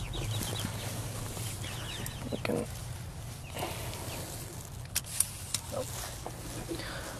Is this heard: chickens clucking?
yes